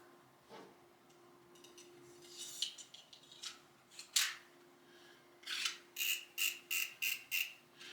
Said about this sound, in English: Let's put a brand new blade in here and get to cutting some bricks.